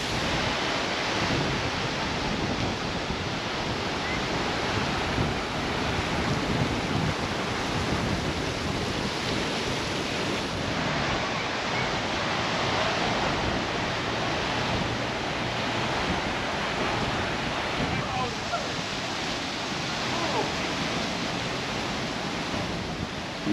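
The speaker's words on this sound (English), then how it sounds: "the wind is giving up a mist though, and it's really nice, isn't it?" Strong wind blows steadily across the Yeppoon seashore in rough weather, a loud, continuous roar mixed with surf, with no voices.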